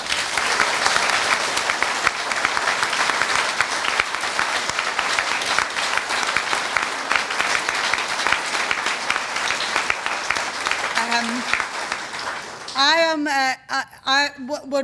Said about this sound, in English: I think deserves a big round of applause